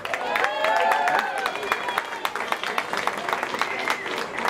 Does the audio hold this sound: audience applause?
yes